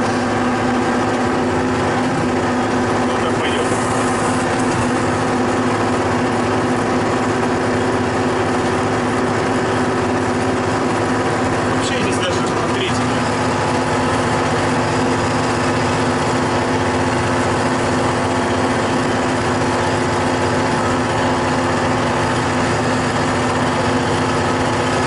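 A KhTZ-17221 tractor engine holds a steady run at about 1800-1900 rpm, a constant loud drone with no break and no voices.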